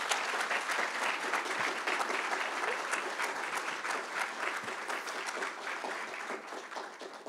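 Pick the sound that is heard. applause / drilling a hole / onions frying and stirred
applause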